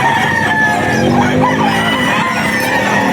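Several roosters crow and hens cluck loudly together, a dense, continuous din of poultry close by at a busy pet market in Bocaue.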